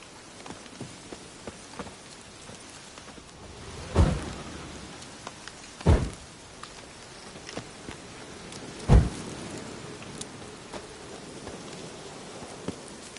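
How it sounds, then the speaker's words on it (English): Steady rain patters across a Witcher III game scene, broken by three heavy, booming thunderclaps spaced a few seconds apart, with no talking. "Looks like rain."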